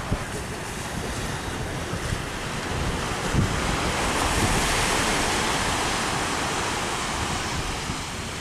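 Gentle sea waves washing onto a calm beach at Isla de los Venados, Mazatlán, a continuous broad surf wash mixed with wind buffeting the microphone, with no talk.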